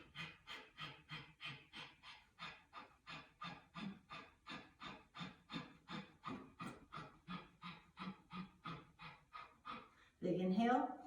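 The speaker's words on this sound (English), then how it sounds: "take a big inhale" During a yoga breathing exercise, a person takes rapid, rhythmic breaths through closed lips, about two per second. Each breath is a sharp, close, evenly repeated puff, and a louder burst of voice comes at the end.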